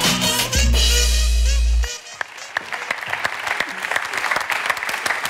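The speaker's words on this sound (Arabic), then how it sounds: "تصفيق قوي لك على سلايم الحريسي" A studio audience breaks into applause after a low musical sting, the clapping scattered and fairly close, continuing steadily to the end.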